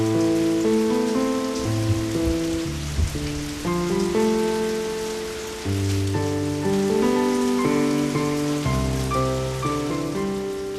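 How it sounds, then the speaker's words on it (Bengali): Steady rain hisses continuously beneath sustained melodic background music, with no voices heard. "বৃষ্টিটাও ধরে এসছে।"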